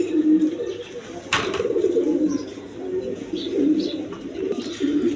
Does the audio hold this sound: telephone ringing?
no